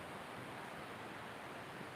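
Steady broadband wash of ocean surf at a warm, peaceful beach with small waves and a few surfers out, continuous and even with no distinct breaks, moderately faint and heard alone.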